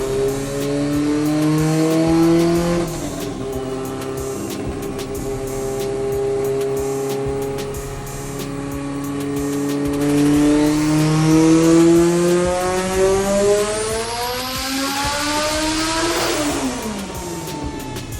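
Car engine pulling on a dyno, making about 700 horsepower, loud sustained roar climbing steadily through the revs, briefly dropping and rising again, then peaking and cutting off near the end.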